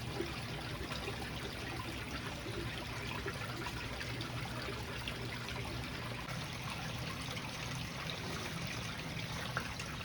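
Water streaming steadily through a gold-prospecting setup on a Lake Superior beach, a constant full rushing wash that holds the same level throughout, close and unbroken, with no voices.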